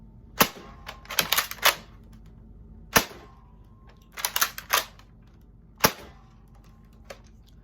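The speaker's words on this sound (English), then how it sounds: "let's get into the main fire demo for the blaster" A 2021 Nerf Rival Curveshot Sideswipe blaster fires several sharp snapping shots close up, singles and quick bursts of three or four, each ending in a clack, with quiet gaps between and no talking.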